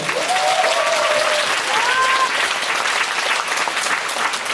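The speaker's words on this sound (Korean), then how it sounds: "그렇게 생각하시면 박수 한번 해주십시오." A packed conference hall of about a thousand people breaks into loud, sustained applause, dense and even, with a few faint whistles rising above the clapping.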